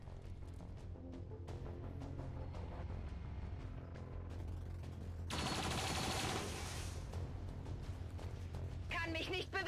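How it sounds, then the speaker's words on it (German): Rapid gunfire and bursts of automatic fire rattle through an XCOM 2 battle, dense repeated shots over a low rumble, growing louder and heavier midway. "Bin unter Beschuss."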